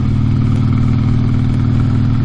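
A vehicle engine drones steadily while pulling through fourth gear at speed on an Indiana road, a loud, close, continuous mid-pitched hum with wind rumble and no voices.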